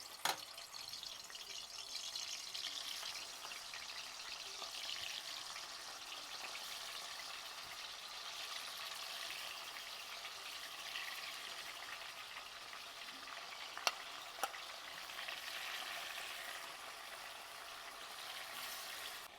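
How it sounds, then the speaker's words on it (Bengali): Pieces of meat fry in hot oil in a pan while a Maggi biryani is cooked: a faint, steady sizzling hiss that runs unbroken, with a couple of small clicks and pops near the end. "এবারে কিন্তু আমি মাংসগুলো ছেড়ে দেবো।"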